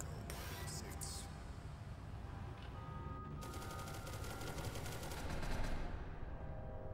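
Rapid gunfire in the SCP: Secret Laboratory video game, a fast stream of shots rattling for several seconds over a steady rumbling background, fairly quiet and somewhat distant, with no talking.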